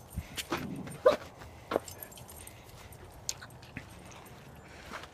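A dog outdoors in a muddy yard gives a few short, scattered barks and yips at moderate distance, mixed with rustling and background noise.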